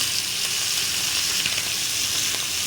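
Fish frying in hot oil, a steady close sizzle that holds level throughout without any voices.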